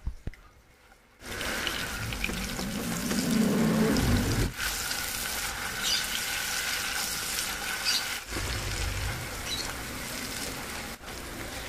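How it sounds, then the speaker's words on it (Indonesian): Steady sizzling as blended spice paste sautés in a pan for chicken feet soup, a continuous hiss with occasional stirring scrapes and brief pauses, close and moderately loud. "masukkan bumbu yang tadi kita udah blender. Kemudian kita tumis sampai matang."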